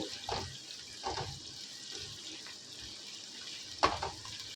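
Onions frying in a pan for a Bengali chicken kosha, a steady broadband sizzle with a few scraping stirs and one sharper clatter near the end, close and moderately loud with no talking.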